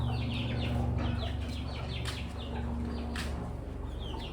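Chickens cluck and squawk on a sheep farm in Amingad, with repeated busy calls over a steady low hum of background noise, fairly close and continuous with no talk.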